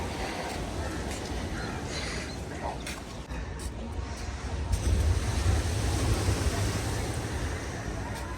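Sea waves roll in at Digha beach beside a casuarina grove, a broad, steady roar with wind buffeting the microphone, swelling louder as surf washes up partway through.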